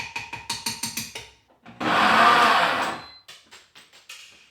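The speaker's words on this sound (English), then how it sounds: "I'm going to put it in the blender until it's like a paste" An electric kitchen blender whirs steadily for about a second, pureeing cooked brown rice into a paste, framed by short rhythmic clicking bursts before and after; close and loud with no speech.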